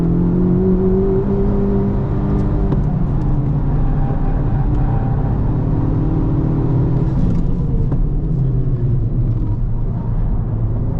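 A car engine on a track lap revs hard toward redline, a loud continuous droning roar that climbs in pitch, dips briefly with a shift, then pulls again, with no talk.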